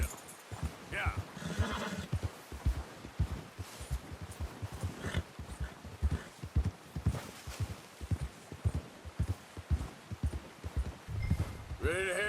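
Horse hooves clip-clop in an irregular walking rhythm in Red Dead Redemption 2, with a horse whinnying and snorting at times and voices speaking in between, all fairly close.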